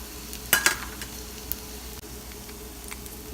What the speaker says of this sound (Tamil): இப்போ பூண்டு பாதி வதங்கிடுச்சு. இப்போ துருவி வச்சுருக்க தேங்காயையும் சேர்த்துக்கலாம்.